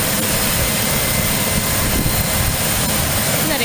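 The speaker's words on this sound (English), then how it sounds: "Look at that aircraft. It's just started, guys. It's gonna take off soon." Aircraft engine just started before takeoff at Aurora Municipal Airport, a loud, steady broadband roar filling the whole clip with no pauses.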